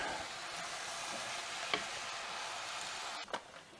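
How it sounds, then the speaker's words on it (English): Tomato sauce and rice simmer in a pot with a faint, steady sizzle and soft bubbling, quiet and continuous, with a few light clicks near the end. "we're going to add the tomato sauce. And the rice. And we'll drop this down to a simmer."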